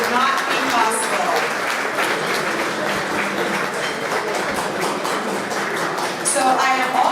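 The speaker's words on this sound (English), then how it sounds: "Let's give them a round of applause." A luncheon audience applauds the main sponsor, a steady bed of clapping running throughout with a few louder individual claps and some voices mixed in beneath it.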